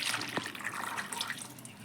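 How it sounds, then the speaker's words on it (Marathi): Water is poured from a glass into a kadhai holding washed potatoes and peas, a short splashing trickle with a brief drip, close and soft. "अजून अर्धा ग्लास पाणी टाकणार आहे आपण"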